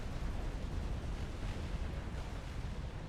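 In a 2v2 Supreme Commander: Forged Alliance Forever match, a Novax satellite fires on a Fat Boy experimental unit: a steady, dense, roaring rumble of weapon fire and explosions that stays loud and unbroken with no talk.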